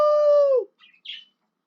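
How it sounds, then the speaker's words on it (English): Two brief, high bird chirps in a Stanley Parable game scene follow a sustained tone that fades out, then silence. "Birds are awake!"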